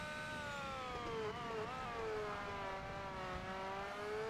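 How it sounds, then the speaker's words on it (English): A race car in Forza Motorsport holding high revs against the rev limiter, a loud sustained engine whine that wavers and dips briefly before settling into a steady strained drone, with no talk over it. "I have found the rev limiter once again"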